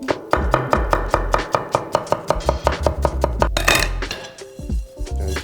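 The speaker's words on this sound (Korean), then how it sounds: "대충 원하는 대로 썰어 주세요." A knife chops food on a board in a quick, even run of about fifteen crisp, close strokes, then breaks off into a brief clatter and rustle at the end.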